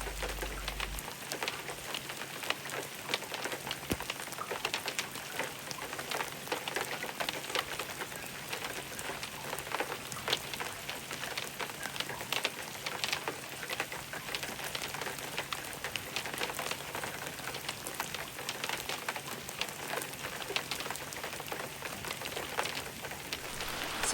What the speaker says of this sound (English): As the rain began to fall